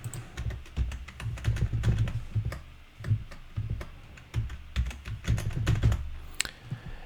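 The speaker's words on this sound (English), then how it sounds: "all you have to do is to type in your new password" Rapid, uneven keystrokes on a computer keyboard clatter up close as a new password is typed, in quick bursts broken by brief pauses, with no talking.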